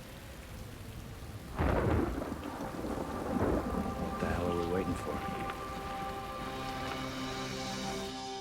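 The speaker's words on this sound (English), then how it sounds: "Heavy storm action, sir, and it's not about to let up either." A heavy thunderstorm in a science-fiction film: loud thunder cracks and rumbles roll over steady pouring rain, with someone speaking briefly partway through.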